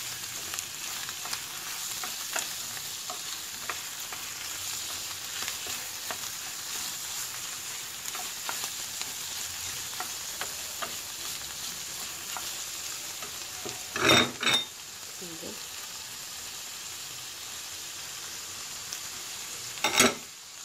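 Shrimp, mushrooms and vermicelli stirred in a pan, a soft steady sizzle with gentle repeated stirring scrapes and a couple of sharper utensil knocks near the end, no speech.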